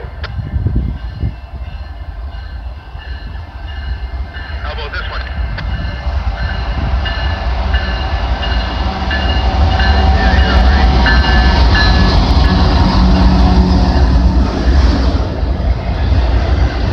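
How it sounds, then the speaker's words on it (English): A BNSF freight train rumbles past up close on the Windsor and Galt Subdivision in London, Ontario, its heavy low roar and rattling cars growing louder and staying loud. "This train originates from Gibson, Indiana, heads west"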